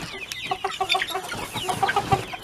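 Golden sex link hens cluck steadily around a rooster on a small farm in the morning, with overlapping close-up clucks and chirps from the flock and no talking.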